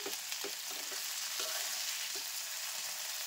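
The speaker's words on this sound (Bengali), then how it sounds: "এবার আমি পনিরগুলো তুলে নিচ্ছি একটা একটা করে।" Tawa paneer pieces are lifted one at a time from a frying pan while the oil hisses loudly and continuously up close, with soft, regularly spaced bumps as each piece comes out.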